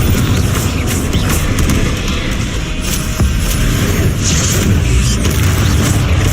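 A Confringo fire spell in Hogwarts Legacy, played on Hard difficulty, blasts with a loud, dense rumbling explosion that fills the whole stretch with heavy booming noise.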